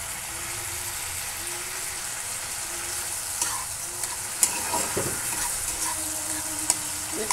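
Mashed strawberries for homemade jam being stirred in a pan, a soft continuous sizzle and bubbling with occasional scrapes and clinks of the spoon against the pan, no talking.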